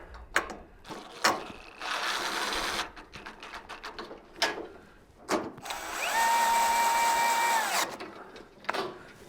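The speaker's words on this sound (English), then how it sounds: "All right, hand me the drill." A power drill drives screws into a wooden gazebo frame, with several short bursts of whirring and a longer sustained run near the end, mixed with clatter and handling noises.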